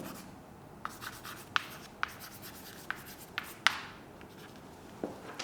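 Chalk or marker on a classroom board during a French spelling lesson, with a steady scratchy rub broken by several sharp taps and strokes, close and fairly loud.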